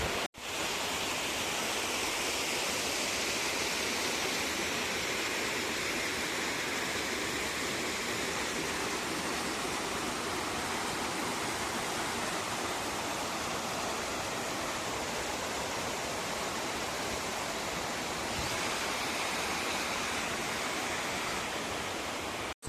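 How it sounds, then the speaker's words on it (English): Waterfalls and a rushing stream in a canyon ravine, a steady broadband roar of falling water, loud and constant throughout with no pauses. "like a lot of waterfalls. That's why they call it the Canyon of Waterfalls."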